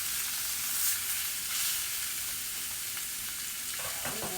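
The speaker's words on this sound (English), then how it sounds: "Again, it's a good sear." Chicken sears in a hot pan with a steady, close sizzling hiss and occasional crackles. Near the end comes a brief stirring or scraping sound.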